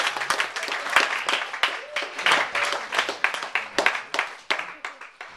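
Theatre audience applauding, a burst of many close, sharp handclaps that build and then thin out, loud and unaccompanied by voices.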